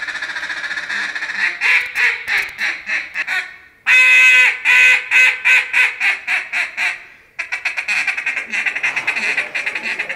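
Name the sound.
duck call being blown, imitating duck quacks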